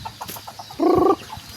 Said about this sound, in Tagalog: Ito pong mga manok ko.